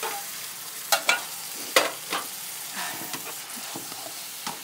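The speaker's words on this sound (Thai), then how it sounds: "เติมน้ำซุปใช้น้ำมาผัดมาม่าเมื่อกี้ค่ะเติมลงไปได้เลย" Instant noodles with chicken and basil are stir-fried in a pan: a soft, continuous sizzle is broken by several sharp spatula scrapes and clanks at uneven intervals, heard close with no speech.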